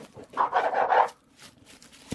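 A dog pants in a kitchen while challah bread is sliced for eggnog French toast, giving a quick run of close, breathy pants for about a second before it falls to faint room noise.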